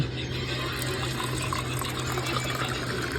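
Cold water is poured, a steady, even rush of liquid close by that runs without pause over a constant low hum, with no voices over it.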